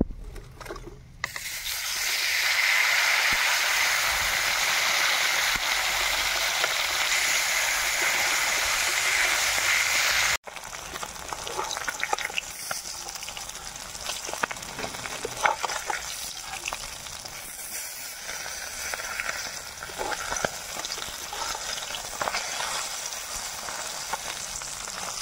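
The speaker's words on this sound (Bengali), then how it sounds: "এক কলা ভেজে নিচ্ছি, আর এক কলা ভেজে নেব।" River bata fish fry in hot oil, crisp and hard, as a loud steady sizzle that drops after a sharp cut into lighter, crackling spatter with a few stirring scrapes.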